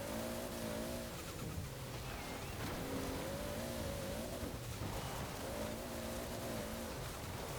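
A 1992 Toyota Celica GT-Four ST185 rally car engine in Forza Horizon drones and rises in repeated revving surges as the tires spin on an offroad surface, loud and continuous throughout.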